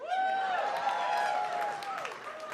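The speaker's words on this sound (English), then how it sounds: "Anybody in here racist by round of applause?" Comedy club audience at Gotham Comedy gives a brief, scattered round of applause with a sustained whooping cheer rising over the clapping, fairly close and moderately loud.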